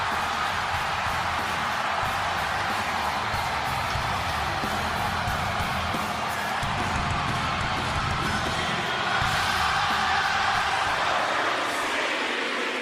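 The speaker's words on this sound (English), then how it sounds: "And now we get the crowd singing CM Punk's song" A wrestling arena crowd in Greenville, Carolina sings CM Punk's song, a broad, sustained wash of massed voices with scattered cheers and whoops, swelling slightly toward the end.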